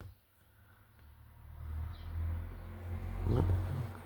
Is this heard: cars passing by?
yes